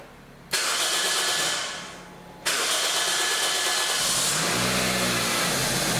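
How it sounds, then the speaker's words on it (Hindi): A car engine cranks and catches, roaring up loudly before dipping and then settling into a steady, strong run, heard close and alone during an ECM driver diagnosis. "अब गाड़ी को स्टार्ट करूंगा"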